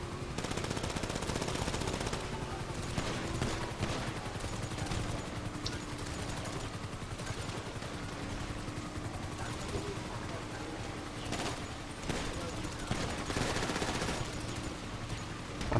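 Rapid automatic gunfire from a Grand Theft Auto 5 Online firefight, shooting at a pursuing target from a boat, rattling in dense bursts with sharp louder shots amid engine noise and game clamor.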